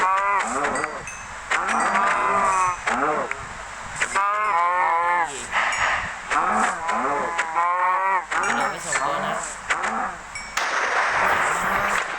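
Cattle mooing in Minecraft, with repeated loud, drawn-out lowing calls coming one after another across the whole stretch, alone with no talking.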